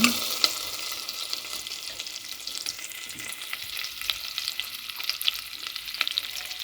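Tomato paste frying in butter in a pot for lentil soup gives a steady, close sizzle and crackle, with light stirring scrapes and small pops throughout and no talking.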